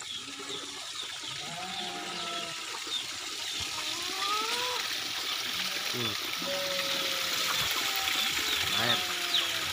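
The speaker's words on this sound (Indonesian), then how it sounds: "Air mengalir." Steady trickling, flowing water runs throughout, with goat calls and voices scattered over it outdoors.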